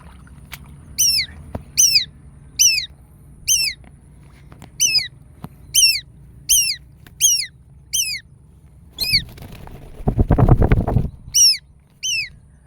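Baby birds give a rapid series of sharp, high, repeated calls at a steady rhythm, close and loud, with a brief burst of rustling handling noise partway through and no talking.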